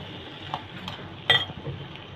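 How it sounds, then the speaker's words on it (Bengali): Eggs stirred gently in a pan for an egg chicken roll: soft scraping with a few light utensil clinks against the pan over a quiet kitchen background. "ডিমগুলো আস্তে আস্তে করে নাড়িয়ে নেবো।"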